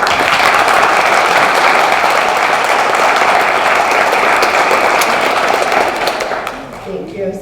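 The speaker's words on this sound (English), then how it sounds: "Can we have a round of applause for them?" At a teen writing awards ceremony, an audience breaks into loud, sustained applause for the young authors, dense clapping that fades out near the end as a voice begins to speak.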